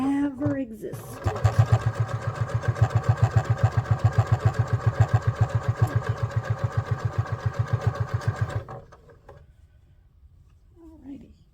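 A sewing machine stitching a maple leaf garden flag, running in a fast steady rhythmic whir for several seconds before stopping, with someone talking just before and after.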